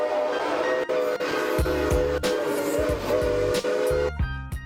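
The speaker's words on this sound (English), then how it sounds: "Here I've got a footage of trains passing by with squeaking sound." Rail cars rumble past with loud, high-pitched metallic squeals and rhythmic clunks of wheels over track joints, close and continuous.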